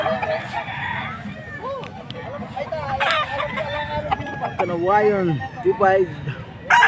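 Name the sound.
young gamecock stags crowing and clucking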